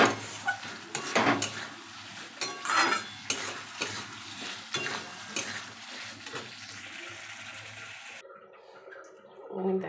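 Fish simmers in a spiced gravy in a pan after water is added, bubbling and sizzling with intermittent stirring and utensil scrapes, close and fairly quiet, fading out near the end.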